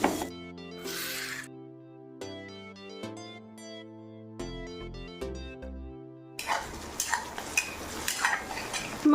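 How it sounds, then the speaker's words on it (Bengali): Onions fry in mustard oil with whole cumin, dried red chilli, bay leaf, asafoetida and green chilli, a steady close sizzle rising in the last few seconds after a stretch of music. "সরষের তেলের মধ্যে গোটা জিরে, শুকনো লঙ্কা আর তেজপাতা দেওয়ার পরে আমি পেঁয়াজগুলো দিয়ে একটু ভাজা ভাজা করছি"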